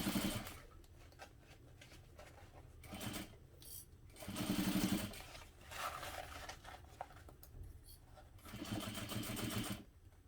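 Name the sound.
sewing machine stitching vinyl seam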